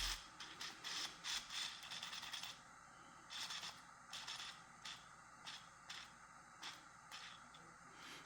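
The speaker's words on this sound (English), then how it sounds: "Now it's gonna move the throttle back and forth." The cruise control on a 1960 Cadillac moves the throttle back and forth, making a series of quiet, close mechanical clicks and ratcheting rattles in uneven bursts, with no talking.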